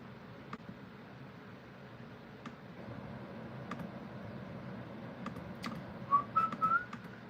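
A person whistling a short snatch of a song, a few quick rising notes near the end, softly over a quiet room with scattered light clicks.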